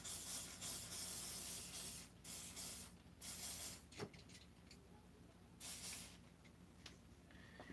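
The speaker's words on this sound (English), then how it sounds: "My WD-40. Just going to coat the whole crank here." WD-40 sprayed over the crankshaft of a Stihl 200T chainsaw during a rebuild: several short close hissing spurts, moderately loud, separated by quieter gaps with faint handling noises.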